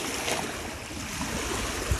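Sea surf washing onto a beach strewn with clamshells and large trees, a steady broadband wash of water with wind, moderately loud and continuous, no talk.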